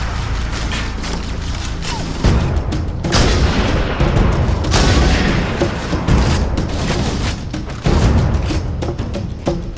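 Plasma grenade explosions in Halo CE Anniversary, a series of loud booming blasts and thuds mixed with gunfire, bursts recurring every second or two throughout.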